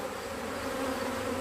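Honey bees buzzing on a hive frame while a drone is spotted among the larvae, a dense, even hum held close and steady throughout with no voices.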